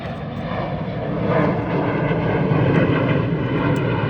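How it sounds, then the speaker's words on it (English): A fixed-wing airplane drones overhead, its engine a broad steady rumble that swells a little midway and stays fairly loud throughout, with no voices over it. "Another airplane."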